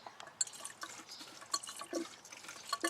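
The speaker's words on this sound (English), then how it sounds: "you'll hear the coolant swishing around" Coolant gurgles and swishes inside a squeezed car radiator hose, quiet liquid sloshing and dripping in short irregular bursts, close and faint.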